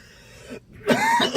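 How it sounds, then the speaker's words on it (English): A man coughs and clears his throat in a harsh burst, then coughs again more loudly after a short pause, close and alone. "gotta stop coughing before I can talk"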